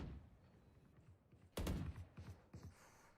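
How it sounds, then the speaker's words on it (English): Gunfire in a Valorant esports match, with a loud burst of shots in the middle followed by a few sharper, quieter reports, over a low steady game background. "Gunshots all around, but it's just to really show presence"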